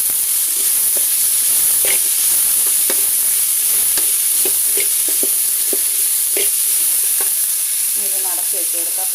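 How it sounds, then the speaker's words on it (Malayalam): Bitter gourd and onion sauté in a pan for a Kerala theeyal curry, giving a steady close sizzle with scattered scraping stir clicks and a faint steamy hiss, and no voices. "നമ്മുടെ പാവയ്ക്കായ ഉള്ളിയൊക്കെ നന്നായിട്ട് വഴന്ന് വന്നിട്ടുണ്ടെങ്കിൽ"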